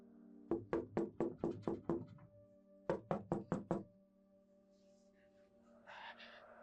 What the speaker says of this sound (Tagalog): Maya-maya pa'y may kumatok sa pinto.